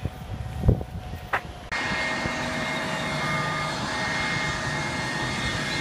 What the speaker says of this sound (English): See if we can see Lori's plane taking off